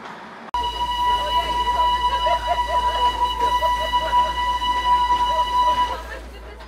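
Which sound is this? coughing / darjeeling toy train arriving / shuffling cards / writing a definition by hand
darjeeling toy train arriving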